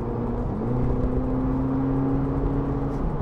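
Cabin view of a Volkswagen Polo GTI hot hatchback accelerating in sport mode, its engine giving a low, steady, buzzy hum that rises slightly in pitch, fairly faint.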